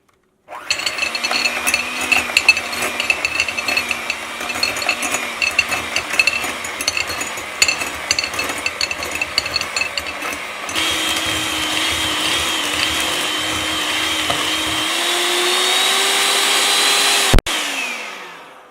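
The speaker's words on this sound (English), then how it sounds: "with this electric mixer, I'm going to beat this until it's smooth" An electric mixer beats butter in a bowl for snowball cookies. A steady, close whirring motor runs for about seventeen seconds, rising to a higher, smoother pitch partway through, then cuts off abruptly.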